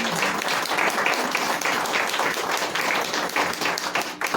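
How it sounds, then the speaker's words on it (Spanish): A church congregation applauds together, loud, dense clapping that swells and stays steady throughout with no voices over it. "Denle un fuerte de palmas al Señor."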